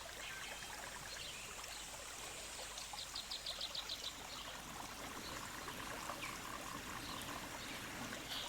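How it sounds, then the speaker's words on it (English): Steady rain shower in Costa Rica, a dense continuous hiss of falling water with trickling and dripping textures, while faint rhythmic chirps, likely frogs or insects, pulse in the background throughout. "it is beginning to rain, a Costa Rican rain shower"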